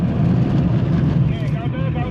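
A BMW E39 engine roars loud and close at full throttle while drifting, with a continuous rumble through the whole moment, along with wind buffeting and a voice speaking.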